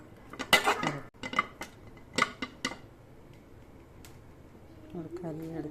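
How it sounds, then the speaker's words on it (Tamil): A spoon scrapes and clanks against a metal pan while Chettinad egg curry with chilli powder is stirred, a handful of sharp irregular clinks, then quieter shuffling and a short burst of talk at the end. "நல்லா கிண்டி விட்டு வச்சுக்கிறோம்."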